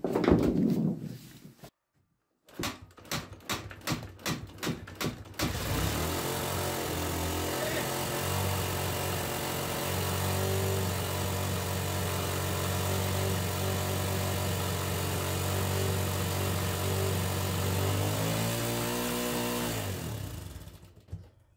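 An old motorcycle engine, out of use for five years, cranks in short bursts and then catches, settling into a loud, steady high idle that runs on for about fifteen seconds before cutting off.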